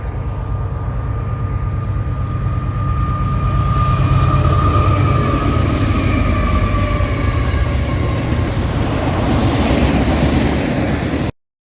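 A Norfolk Southern eastbound mixed freight in North Alabama passes close by, led by a four-unit locomotive lashup that includes a Dash 9. It makes a loud, continuous rumble with ringing wheel and rail tones, then cuts off abruptly.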